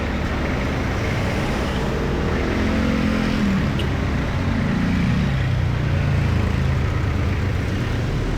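Road traffic in Verde Heights, New Zealand, with a continuous low rumble of cars passing nearby and a steady broadband roar, no clear talking over it.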